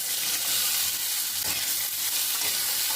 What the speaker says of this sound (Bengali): কাঁকড়া দিয়ে ভালোভাবে আবারও কষিয়ে নেব